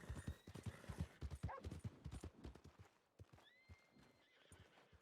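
Horse hooves clip-clop in a steady rhythm alongside whinnying neighs in a video game, close and fairly loud, with a voice intermittently over them.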